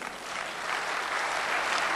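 Audience applause at a Hindi poetry recital, a steady broad wash of clapping that holds for about two seconds with no voice over it.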